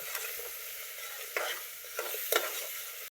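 Mutton masala roasting in a pan, a steady soft sizzle with a few louder stirring scrapes, close up and without talk.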